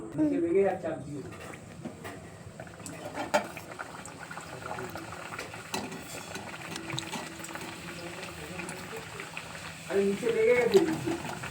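Kachori dropped into hot oil in a wok, a soft steady bubbling fry that runs throughout at moderate level while someone talks over it at the start and end.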